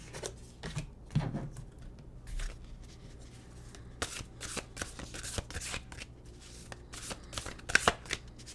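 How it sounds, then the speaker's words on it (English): Oracle cards from a Nature's Whispers deck being shuffled by hand, giving a close run of soft irregular riffles and flicks with small taps, with no one speaking. "Let's get an oracle card going here, shall we?"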